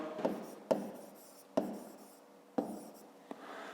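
Pen or pencil writing by hand on paper during a fifth-grade geometry exercise, with four sharp strokes and scratchy taps spaced about a second apart over a soft steady rustle, close and fairly quiet.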